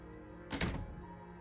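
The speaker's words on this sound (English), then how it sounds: "She slams the door behind her before you can make it to the top of the stairs." A door slams shut in the video game Slay the Princess, one close heavy thump with a short rattle, set against a low droning musical background.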